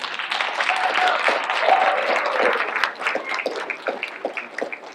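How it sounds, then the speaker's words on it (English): A school audience at a morning brunch event applauds steadily and fairly close for several seconds, with a few voices mixed into the clapping. "Give yourselves a round of applause."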